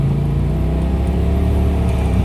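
A Polaris RZR XP 1000 side-by-side idles and revs on a wooded Tennessee trail at Brimstone, a steady close low engine drone with a slight rise in pitch, no voices.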